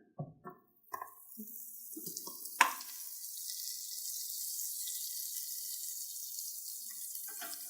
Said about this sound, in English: So now this is where I will add my butter in.